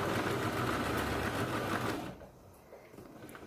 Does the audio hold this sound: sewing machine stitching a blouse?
yes